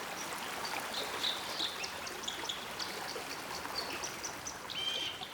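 A forest stream in late autumn trickles and burbles steadily, with leaves collecting along its banks; the flow runs continuously at moderate distance, with faint bird chirps scattered above the water.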